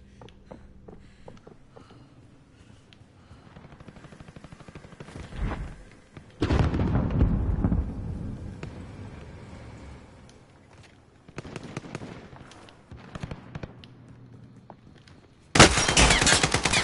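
AK rifle gunfire in the video game Call of Duty, loud bursts of rapid automatic fire broken by quieter gaps, with a sharp burst at the end.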